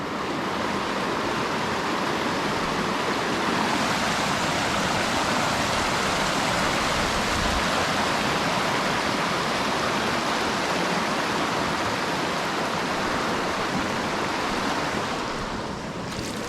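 Steady, loud rush of creek water along a remote river valley in Australia, a continuous broad wash without pause that fades slightly at the very end.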